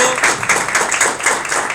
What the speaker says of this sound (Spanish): Un aplauso por favor para nuestro panel de expertos.